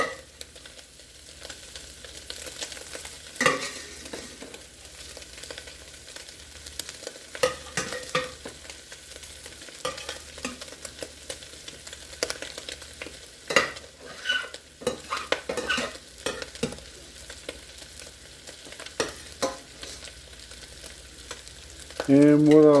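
Ground meat stirred and frying in a pot for red beer chili, a steady sizzle broken by repeated scraping and clinking stirring strokes, loud and close throughout.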